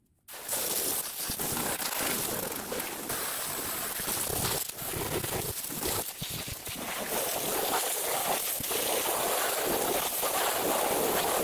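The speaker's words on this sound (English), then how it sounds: "You have to get the hose pipe all the way inside, and you can do that without worrying about it getting damaged or rotten." A garden hose sprays water steadily over a wooden chicken coop to clean it, producing a loud continuous hiss and rush that runs almost unbroken from start to finish with no talking.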